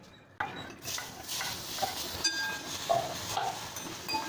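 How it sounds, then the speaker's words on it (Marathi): Tomatoes dropped onto fried onion in a home kitchen pan, a sudden onset followed by scraping stirs and light clinks of utensil against metal, close up, with no talking. "कांदा मस्त लाल परतून झाला आहे. आता त्याच्यामध्येच मी टोमॅटो टाकते."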